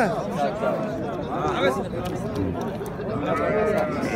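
Sheep bleat repeatedly amid a busy crowd, with people talking throughout and animal calls rising over the steady din of a livestock market in Tergachi, Uzbekistan.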